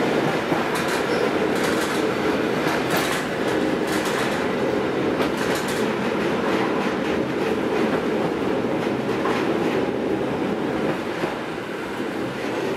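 A train riding on rails near the Vistula River, heard from inside the carriage: a steady loud rumble with repeated clickety-clack wheel beats over the rail joints, continuous with no talking.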